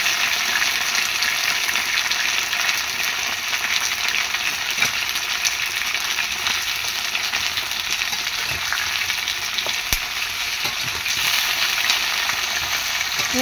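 Food fries and sizzles loudly in a pan while being stirred at home, making a dense, continuous crackling hiss with occasional sharper pops. The sound is close and steady, with no talking.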